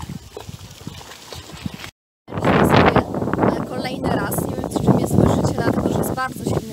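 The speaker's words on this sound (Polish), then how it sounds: "Bardzo silny wiatr" Strong wind at the Polish seaside in Mielno buffets the microphone in heavy rumbling gusts, with a voice speaking over it and a brief dropout partway through.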